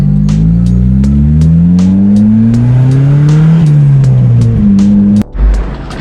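A turbocharged car driving, its loud, close engine droning and rising steadily in pitch as it accelerates, with a sharp drop and brief lull near the end before the engine picks back up.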